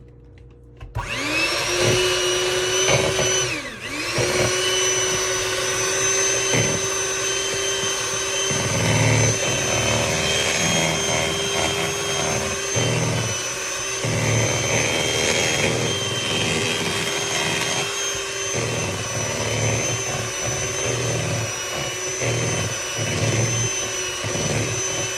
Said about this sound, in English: now we're gonna mix it